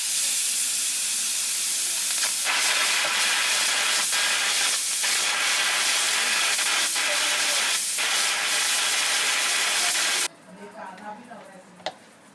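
Loud, steady hiss of steam venting from a pressure cooker cooking beef curry for about ten seconds, then it cuts off, leaving quiet clinks and handling noises.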